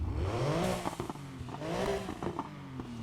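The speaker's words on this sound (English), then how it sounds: "It sounds like a Porsche." Revving engine of an all-wheel-drive rally car in a street racing game, rising and falling pitch sweeps as it accelerates through gears, close and loud with some crackle.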